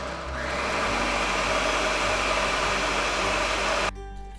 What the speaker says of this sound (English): pour this into the blender and blend it up